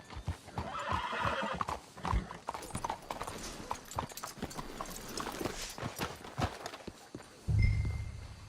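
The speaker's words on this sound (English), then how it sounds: "Let's hitch the horses up ahead." Horses in the video game Red Dead Redemption 2: a steady clip-clop of hooves walking, with neighs and whinnies rising over it and a louder, heavier thud near the end.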